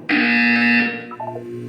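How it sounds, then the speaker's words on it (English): A loud, harsh electronic buzzer from the video game Portal 2 blares steadily for about a second, then cuts off, leaving a faint synthetic tone and low hum. "You will hear a buzzer."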